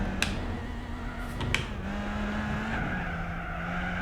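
Tire skid from snap oversteer in a car in Gran Turismo 4, a steady screech over a droning racing engine with brief sharp clicks early on, lasting throughout.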